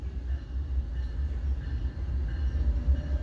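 An Amtrak passenger train rolls past on the Gulf Coast, a steady low rumble of wheels and engine at moderate distance, continuous for a few seconds with slight pulsing.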